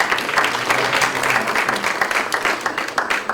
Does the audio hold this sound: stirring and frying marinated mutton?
no